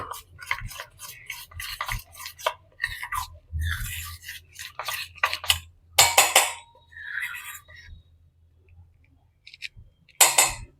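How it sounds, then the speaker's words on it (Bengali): Spiced batter for spring onion pakora, with Kashmiri red chilli powder and nigella seeds, being mixed in a bowl: brisk, irregular scraping and tapping strokes in short bursts with pauses, close and fairly loud, no talk. "এবার এটাকে ভালো করে মিশিয়ে নেব"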